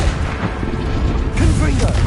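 Confringo and Bombarda blast spells bursting in the Hogwarts Legacy video game, a dense rumbling boom that swells partway through, with a voice talking over it.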